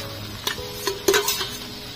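Fried cauliflower and potato stirred into a sizzling spice paste in a pan, with a few soft scraping stirs and quiet frying hiss, close and fairly faint.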